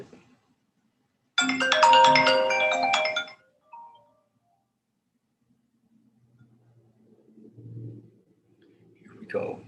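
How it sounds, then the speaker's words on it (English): A mobile phone ringtone plays a bright melodic electronic tune for about two seconds, loud and close, then stops. Quiet, low speech-like sounds follow in an otherwise silent room. "My phone rang."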